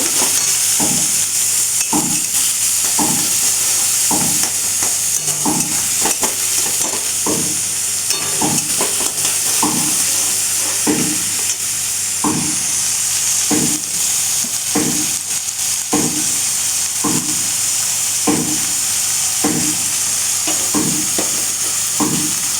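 A paste of boiled fish heads is stirred in a sizzling frying pan, with a spatula scraping in a steady rhythm about once a second over a loud, constant hiss of frying.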